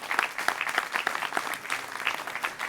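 A live audience applauds at a charity cheque presentation ceremony, with steady, dense clapping from a modest crowd sustained evenly throughout and no voices over it.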